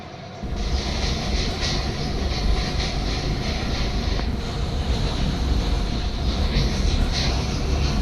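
A train rolls past in the Indian Bike 3D driving game, a continuous loud rumble and clatter that holds steady from start to finish without any talking.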